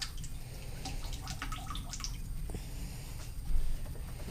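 Ceramic glaze poured into a pot, wet liquid splashing and dripping sounds close up over a low background rumble, with a brief louder bump near the end.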